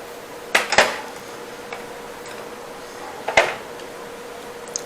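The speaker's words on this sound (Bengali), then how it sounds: "এখন আমরা দিয়ে দিচ্ছি এখানে আদা রসুন বাটা।" Ginger garlic paste goes onto chicken in a bowl, with a spoon clinking against the dish in two brief clusters of sharp taps over a quiet background.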